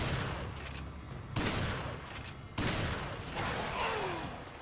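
Heavy gunfire in the video game Resident Evil 5 during a swamp and mines stage: loud bursts of rapid shots in several volleys, each followed by ringing decay, with no talking.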